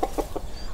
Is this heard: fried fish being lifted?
no